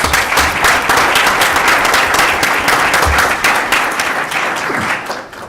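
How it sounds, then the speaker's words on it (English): Sustained applause from a school board meeting audience honoring award winners, dense steady clapping filling the room at full strength before tapering slightly near the end. "Let's give them another round of applause."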